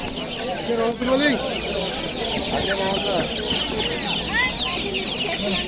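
Dense, continuous clucking and cheeping from many black chicks and chickens crowded together at a poultry market in Andijan, with people talking underneath the steady flock noise.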